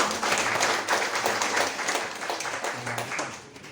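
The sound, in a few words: applause for the worship leader and musicians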